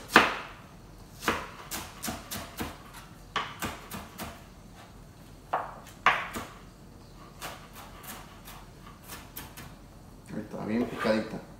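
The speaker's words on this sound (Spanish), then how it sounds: "Le voy a picar la cebolla bien picadita" Sharp knife chops on a cutting board come in uneven bursts as an onion is finely minced, close and crisp, while a voice talks between and over the cuts.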